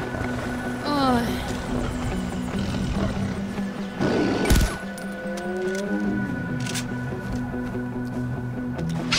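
A tiger's dying cry in Far Cry 4, a loud strained roar surging mid-clip with sliding moaning tones before and after, set over steady game ambience and background noise.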